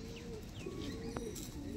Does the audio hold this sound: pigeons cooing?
yes